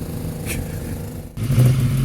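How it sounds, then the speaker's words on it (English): A motorcycle engine idles steadily, then revs up louder partway through, a low mechanical rumble close by. "Right, engine is running, so I think it must be time to go."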